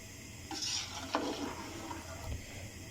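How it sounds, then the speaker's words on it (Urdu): A spoon stirs soaked rice in water in a pot while making matar pulao, giving soft scraping and sloshing sounds with a metallic clink, heard close and fairly quiet. "چمچ کی مدد سے مکس کر دیتے ہیں"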